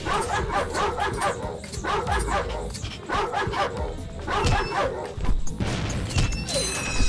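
Several dogs bark in the Ratchet & Clank video game, a rapid run of loud, overlapping yaps and yips with crashing effects mixed in near the end.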